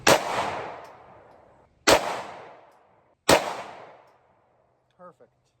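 Three loud Walther pistol shots fired while sighting in on an outdoor range, each a sharp crack with a long fading echo, spaced roughly 1.5 seconds apart, followed by a faint brief clink.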